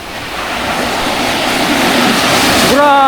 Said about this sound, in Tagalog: Ah, tingnan nyo yung dagat!